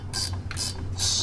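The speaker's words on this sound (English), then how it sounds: "I'm gonna go get those drive shaft bolts out and get it ready to" A ratchet wrench works on drive shaft bolts beneath a 1973 Chevrolet Nova, giving three short bursts of metallic clicking close by over a low steady hum.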